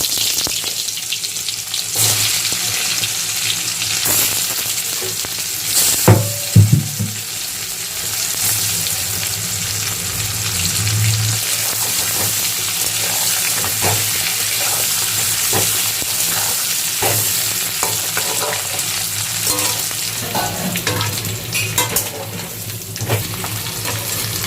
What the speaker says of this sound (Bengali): দিয়ে দেবো 1 চামচ ঘি। এবার আমরা আলুগুলো ছেড়ে দিচ্ছি।